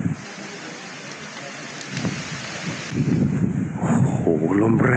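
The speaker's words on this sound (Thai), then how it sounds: "โอ้โหลมแรงมาก" Strong wind roars and buffets the microphone at a mountain campsite, with rain-like noise and a voice talking over it toward the end.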